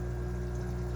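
Water pours steadily through an aquarium sump holding about 35 gallons, fed by a pump moving roughly 150 gallons an hour, with a constant low hum and splashing flow.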